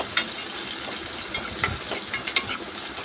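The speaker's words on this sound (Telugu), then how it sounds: "ఆనియన్స్ కొంచెం పింక్ అయిన తర్వాత ఇప్పుడు మనం క్యాప్సికమ్ వేసి ఫ్రై చేసుకోవాలి." Onions and capsicum frying in a pan for a drumstick curry, a steady close sizzle with a few sharper crackles and stirring scrapes over about three seconds.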